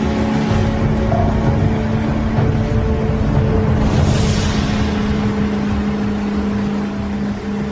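Motorboat engine droning steadily on a lake, a loud continuous hum with a low rumble that eases slightly near the end.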